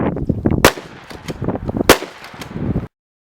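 A DA Grizzly 870 clone pump shotgun with a 12.5-inch barrel fires twice at a plywood target outdoors, two sharp loud blasts about a second apart with clanking and rustling between.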